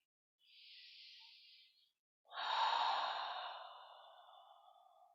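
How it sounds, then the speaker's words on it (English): Two slow breaths during a yoga flow: a soft, airy inhale followed, after a brief pause, by a louder, longer exhale that trails away, close and alone with no talk. "just let your mind settle in the sound and sensation of your breath"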